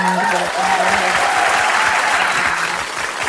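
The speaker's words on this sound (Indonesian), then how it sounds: "Sebelumnya kita kasih tepuk tangan dulu ya kali ya buat semua yang sudah melakukan" A crowd claps for debate participants at a school debate event, loud continuous applause with a voice talking briefly over the start.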